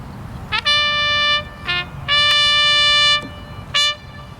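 A bright brass bugle sounds the attention call at a military ceremony, several sustained notes with brief gaps, loud and clear over faint crowd murmur outdoors.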